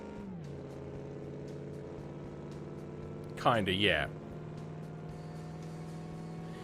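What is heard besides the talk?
car engine at low RPM in a car-building video game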